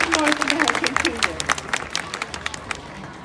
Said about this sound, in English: let's have one final round of applause for Whistler,